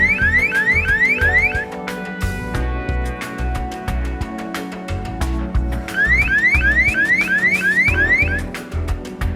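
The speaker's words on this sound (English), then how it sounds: "A light will start to flash and an acoustic alarm will go off as well." A loud electronic intrusion alarm at a solar power plant wails in repeated rising chirps and warbling tones, cycling through patterns continuously and piercingly.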